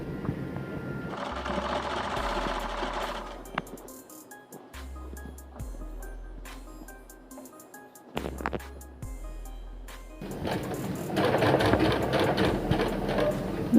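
A sewing machine stitches seams on a six-panel petticoat in several separate runs, its whirring motor starting and stopping between short quiet pauses, heard up close.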